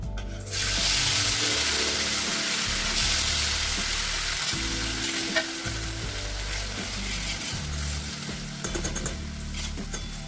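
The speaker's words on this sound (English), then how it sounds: "So I need to fry it till the color gets to a little bit darker" Masala paste fries loudly in a pan for an Indian chicken curry, a dense continuous sizzle and crackle with low clunks of stirring running throughout.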